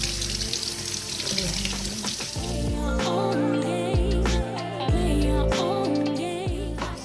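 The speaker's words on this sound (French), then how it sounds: "Je vais le rincer." Gravlax salmon rinsed under a running kitchen tap, a steady broadband rush of water that changes as the fish is moved under the stream, with a faint hum underneath and no talk.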